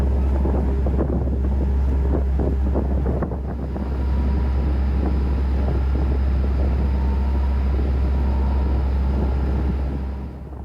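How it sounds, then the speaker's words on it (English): Cape Lookout passenger ferry cruising across the bay, a steady low engine drone with heavy wind buffeting the microphone, continuous and fairly loud throughout. "This is the Cape Lookout and Cabins ferry that we normally use."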